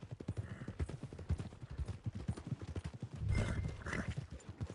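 Horse hooves clip-clopping at a walk with a neigh near the end, close and rhythmic, in Red Dead Redemption 2.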